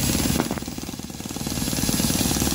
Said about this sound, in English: Starting it with a drill.